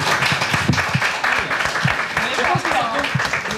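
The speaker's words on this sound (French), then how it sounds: "Applaudissez si oui, vous pensez que c'est une bonne idée." A studio audience on a French television show applauds in a loud, dense burst of clapping that runs through the whole moment, with voices mixed in underneath.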